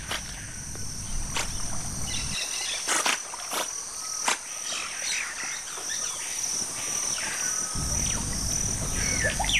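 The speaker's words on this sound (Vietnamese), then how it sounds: "Bên bờ hồ vang lừng tiếng chim" Birds sing by a lake in Central or South America amid a dense constant insect chorus, with scattered chirps and calls at moderate distance and low rumbling stretches at the start and end.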